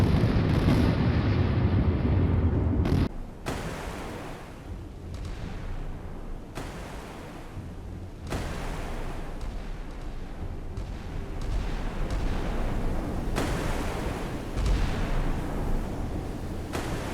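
Fuel tanks blasted apart by naval gunfire in a video game, a loud sustained roar of explosions and heavy rumbling that swells and settles over many seconds, with sharp booms breaking in now and then.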